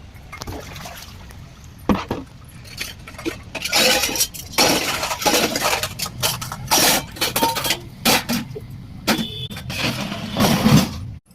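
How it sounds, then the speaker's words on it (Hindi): Metal utensils being washed in a courtyard, with repeated clinks and clatters of pots and dishes over running and splashing water, loud and close for most of the stretch. "तो उधर बर्तन धुल गया था"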